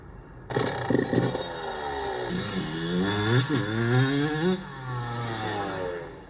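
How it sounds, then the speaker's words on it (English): A two-stroke motorcycle engine running on vegetable oil revs up and down repeatedly, its loud, rising and falling buzz filling the clip after a brief quiet start, with a steadier idle near the end. "I found this guy that put vegetable oil in his 2-stroke, and he said it ran fine."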